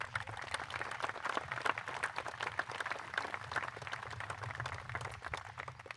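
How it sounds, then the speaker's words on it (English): A crowd claps steadily at a high school graduation, a soft, distant round of applause that keeps up for several seconds. "a round of applause for them, please"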